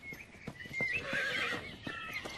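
A horse gives a loud, shaky whinny over a run of clip-clopping hooves, close by and without voices.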